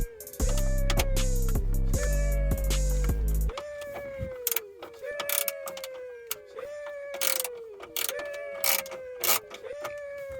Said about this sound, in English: we have 4 7mm bolts right here that you gotta undo